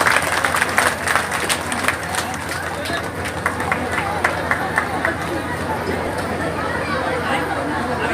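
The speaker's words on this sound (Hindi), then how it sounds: "ताली भाई।" A rally crowd claps and cheers at a political event where Yogi Adityanath appeared, with dense applause and sharp claps throughout and crowd babble mixed in.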